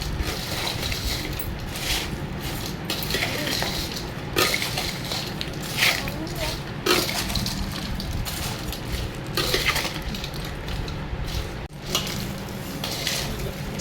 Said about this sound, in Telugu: మ్యాగీలో మసాలా వేసుకుందాం. కలుపుకుందాం.